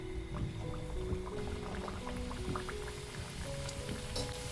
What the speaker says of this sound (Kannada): ಇಲ್ಲಿ ಎಣ್ಣೆ ಕಾಯಕ್ಕೆ ಇಟ್ಕೊಂಡಿದ್ದೆ. ಮೀಡಿಯಮ್ ಫ್ಲೇಮಲ್ಲಿ ಇಟ್ಕೊಂಡು ಇವಾಗ ಒಂದೊಂದಾಗಿ ಹಾಕ್ಕೋಬೇಕು